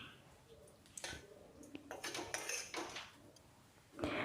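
A spoon scrapes and clinks against a bowl while cucumber pachadi is mixed with curd, soft irregular taps and stirring strokes close by with no talk.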